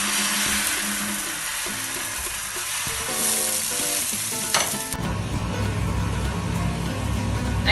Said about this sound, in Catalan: Ara que ja tenim la paella calenta, agafem una escumadera i una part de la nostra barreja i la introduïm